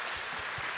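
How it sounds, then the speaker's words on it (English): Dense, steady applause from a conference audience at a Web3 talent panel in Barcelona, a continuous wash of clapping filling the short moment with no voices. "could we please get a round of applause for Kirsten,"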